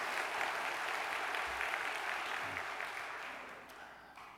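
An audience at a church gathering breaks into continuous, dense applause that stays loud and steady throughout before tapering slightly at the end.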